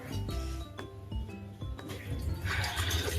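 Water is poured into a cooking pot for two packs of Maggi noodles, with light clinks of metal early on, then a louder, steady splashing fill building toward the end.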